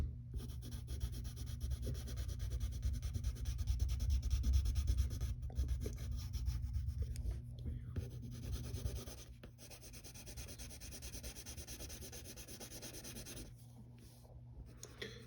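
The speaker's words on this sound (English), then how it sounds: "use the side of your pencil or crayon, because the point just makes lines" Pencil or crayon held on its side, shading across paper while drawing a cartoon character: a steady, close, soft scratchy rubbing that continues throughout, slightly louder in the first half, with no talking.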